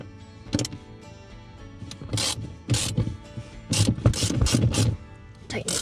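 Bolts being tightened on a fire extinguisher mount in an FJ Cruiser overland build, giving repeated short ratcheting clicks in several bursts, close and moderately loud.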